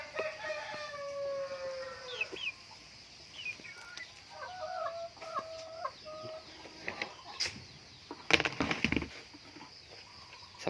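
Free-range chickens cluck and squawk around a backyard coop, with scattered calls rising and falling over several seconds, near and fairly loud against a quiet yard.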